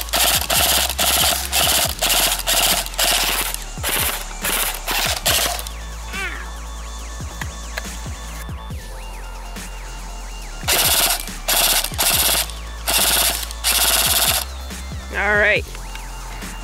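A Lancer Tactical M4 CQBR MK18 airsoft gun fires full auto on an 8.4 volt battery, several loud rapid bursts separated by pauses, with someone talking between them.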